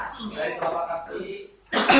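Coughing and throat clearing during an Islamic ruqyah syar'iyyah healing session, with a loud close burst of coughs near the end following quieter mixed voices and murmuring.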